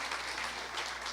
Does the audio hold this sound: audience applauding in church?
yes